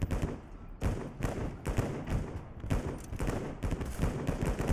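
An artillery barrage in the WWI video game Over The Top sounds as a run of heavy, booming thumps and blasts, arriving in quick irregular succession and loud throughout.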